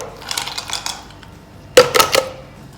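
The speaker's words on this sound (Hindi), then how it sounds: "अब मैं आइस क्यूब्स डालूँगी।" Ice cubes clatter into a glass or vessel for a pina colada, a sharp cluster of clinks and knocks in two quick bursts after a quieter stretch of faint handling.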